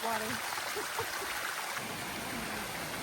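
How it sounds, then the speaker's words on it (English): Stream water rushes at a trail crossing on the Appalachian Trail near Hot Springs, a steady broadband hiss that holds throughout while a person talks faintly over it. "We have another water crossing."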